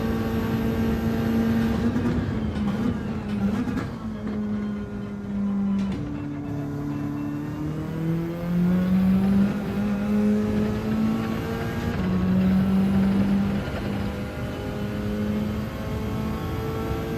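Gr.4 race car engines in Gran Turismo 7, racing at Interlagos, drone and rise in pitch through gear changes, with steady loud revving that shifts up and down across the whole stretch.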